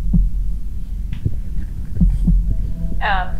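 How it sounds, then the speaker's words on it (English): A heartbeat sound effect for a reading of Poe's The Tell-Tale Heart, with dull low thumps arriving in pairs over a steady hum, and a brief higher tonal sound near the end. "I can just put sound effect heartbeat in here right now."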